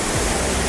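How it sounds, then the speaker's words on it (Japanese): Koza waterfall near Ashiya, swollen after rain, pours down and splashes heavily below, a loud, dense and unbroken roar of rushing water heard up close. "上の方からずっと水が落ちてきてて、もう下の方とか水しぶきもすごいです。"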